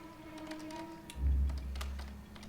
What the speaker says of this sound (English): You're fucking typing to me.